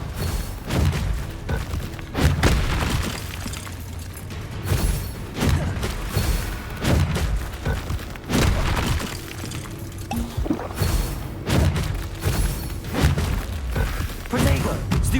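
Spell blasts in Hogwarts Legacy combat, a rapid series of thuds, whooshes and impact bursts at irregular intervals, fairly loud, with voices shouting over the action.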